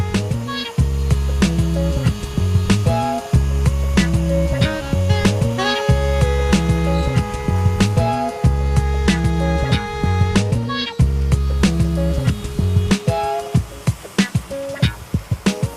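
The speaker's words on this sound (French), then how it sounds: "un premier outil dégrossit la forme du moulin, un second la finalise à la perfection avant le ponçage" A wooden Peugeot pepper mill spins on a lathe as turning tools rough out and refine its shape, giving a steady close whirring hum with repeated scraping passes that start and stop in cycles, and no talking.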